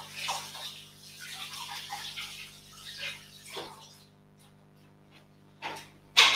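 Water runs steadily from a kitchen tap as hands are quickly rinsed beneath it, a soft continuous hiss with small splashing shifts before it trails off into near quiet.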